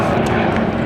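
A massive jet aircraft at a Scottish motoring festival roars loudly and steadily in a short, continuous blast of engine noise.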